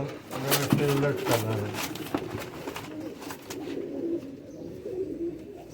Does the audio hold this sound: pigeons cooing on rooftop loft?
yes